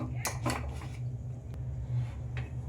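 A metal pressure cooker lid knocks and clinks into place in a kitchen while mung dal is being prepared, a few sharp clatters near the start and one more later over a low steady hum.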